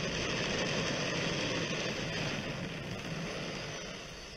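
An engine test roars continuously, a dense, loud broadband rumble that holds steady and then begins to fade slightly toward the end, with no voices.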